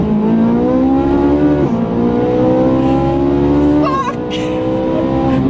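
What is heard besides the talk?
Ferrari 458 Italia accelerating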